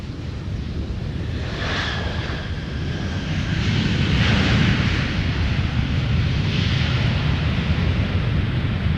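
A Sun Country airliner taxiing at Minneapolis–Saint Paul airport, a steady loud jet engine roar with wind rumble that swells slightly in the middle.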